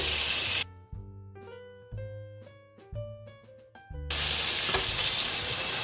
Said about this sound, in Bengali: পেঁয়াজ আদা রসুনের সঙ্গে কিমাটা আমি ভালোভাবে ভেজে নেব।